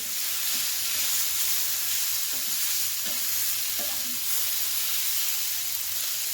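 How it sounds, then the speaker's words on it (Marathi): Sesame seeds fry in a pan with a continuous loud hiss and sizzle, a few soft stirring scrapes over a low steady hum, the seeds being toasted for a tomato chutney. "आता फक्त आपले तिळच थोडे फ्राय करायचे राहिलेले आहे"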